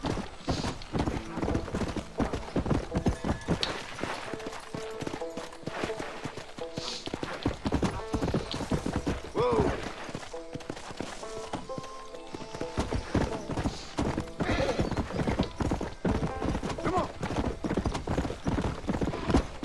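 Horse hooves clip-clop in a steady, brisk rhythm in the video game Red Dead Redemption, close and clear, with a game-like quality and a voice talking intermittently over them.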